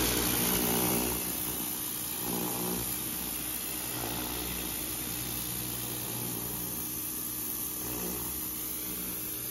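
A power washer blasts paint off a wooden privacy fence, a loud continuous hiss and engine drone holding steady close by with slight surges as the spray shifts.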